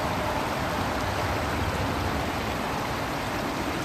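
Flowing water of the Sandy River, a steady, close rushing wash with no pauses and no voices.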